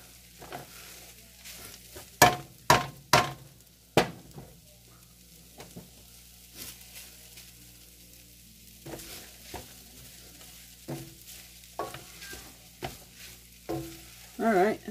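Ground beef stir fry cooking in a pan, with several loud metallic stirring clanks early, a soft sizzle in between, and more scattered scrapes later.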